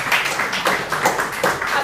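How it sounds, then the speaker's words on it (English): An audience at a public-speaking session claps together, a close, brisk flurry of hand claps sustained for a couple of seconds, loud and with no talk over it. "clap for yourselves"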